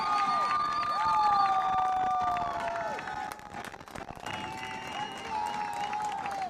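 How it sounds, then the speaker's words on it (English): A large crowd at a college men's soccer semifinal cheers and applauds continuously, with whistles and shouts rising above a dense wash of clapping. "Listen to this crowd."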